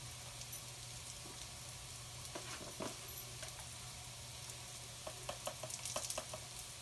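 Onions softened in a pan with chili powder sizzle and fry at a low, steady level, with scattered crackles and spoon stirring while cooking a sardine tin fish curry.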